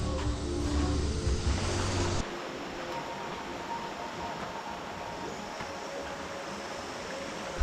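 Goa Raja cave waterfall in Bali, a steady broadband rushing wash of falling water, moderately loud and continuous, with a louder opening section before settling into an even roar.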